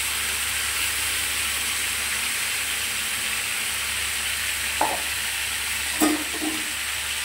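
Chicken curry sizzles in a pan as it is sautéed, making a steady close hiss and fry with two short stirring scrapes near the end and no voices.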